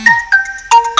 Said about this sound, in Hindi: फ़ोन आ रहा था घर से।